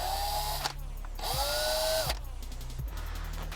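A power drill bores mounting holes through a taped-down paper template while a magnetic mic conversion kit is being installed. Two sustained, fairly close whines are separated by short pauses, and the motor winds up and down at each start and stop.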